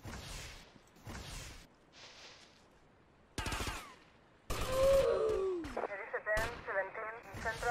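Gunfire in the video game GTA Vice City: several separate bursts of shots with short gaps, then louder, denser firing with whooshing and mechanical game effects toward the end.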